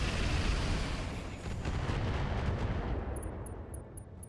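Incendiary weapons fire and an explosion in the mech video game RogueTech: a dense, sustained roaring blast that holds steady for about three seconds and then thins out, loud and close, with no talking.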